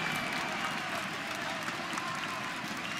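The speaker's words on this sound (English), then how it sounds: "The crowd's in rapture." A large esports crowd at ESL One Cologne cheers and applauds in a continuous wash of clapping and roaring, heard at a distance, with a caster's voice layered over it.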